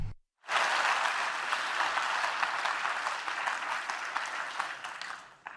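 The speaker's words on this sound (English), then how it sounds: "I think a round of applause for Europe." An audience at the closing event of the Conference on the Future of Europe breaks into sustained applause, loud and dense from the start and slowly tapering over several seconds.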